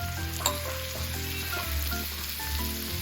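Garlic and coconut pieces fry in a pan with a loud, steady sizzle, joined by occasional stirring scrapes and a low background hum.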